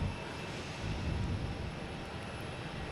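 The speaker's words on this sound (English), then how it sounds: "We have JetBlue heading to Las Vegas. A321neo." A JetBlue Airbus A321neo jet at Boston Logan Airport, its engines giving a steady, broad roar at moderate distance without any voices.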